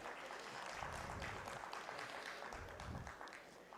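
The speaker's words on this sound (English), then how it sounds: "Please join me in welcoming, with a huge round of applause, a visionary leader shaping the future of power sector in UP" A conference audience claps steadily for a speaker. The applause is soft and distant, a continuous even patter that lasts the whole stretch.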